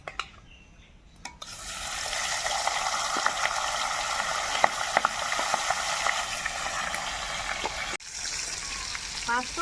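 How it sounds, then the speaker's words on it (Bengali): Mrigal fish rubbed with salt and turmeric sizzles in hot mustard oil in a wok, a loud continuous hiss and spatter with sharp pops, starting after a short quiet pause and briefly cut near the end. "মাছ তো ভাজতে বসিয়ে দিয়েছি"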